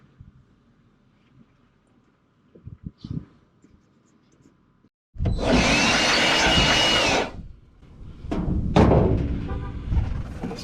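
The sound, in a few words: compressed air tool used on truck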